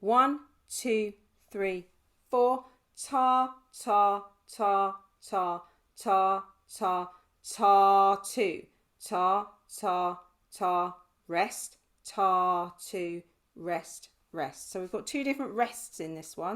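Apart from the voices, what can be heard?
No distinct noise like a dog, phone or traffic.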